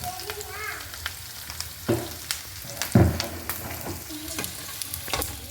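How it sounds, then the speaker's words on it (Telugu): A tempering of spices sizzles in hot oil for baingan bharta, a lively crackle punctuated by several sharp knocks and scrapes of a spoon stirring against the pan. "తాలింపు పెట్టి మంచిగా వేగిపోయింది"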